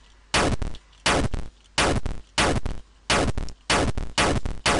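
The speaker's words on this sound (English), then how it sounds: "What we want to be doing is firing tank shots and the sound happen anyway." Eight tank cannon shots from a homemade game fire one after another at an even pace of about one every half second. Each is a loud, harsh burst that ends abruptly, with silence between shots.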